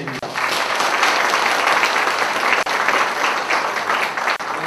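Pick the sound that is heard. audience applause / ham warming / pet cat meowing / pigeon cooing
audience applause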